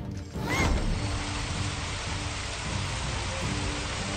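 Raindrops, a water magic spell cast against a single enemy in Final Fantasy XV, hisses as a steady, dense patter like heavy rain on a surface that starts abruptly and keeps a constant wash with faint mechanical clicks.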